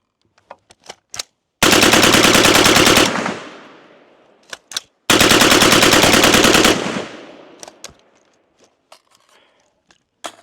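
LWRC IC-A5 rifle firing long full-auto bursts during a barrel meltdown session, two sustained loud strings of rapid shots each lasting over a second, with scattered single reports and clanks between them.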